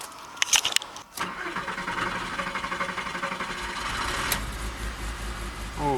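A Volkswagen Golf Estate with a 2.3 V5 engine cranks and catches after a spark plug change, with sharp clicks early on, then a steady pulsing engine note that rises once more near the end.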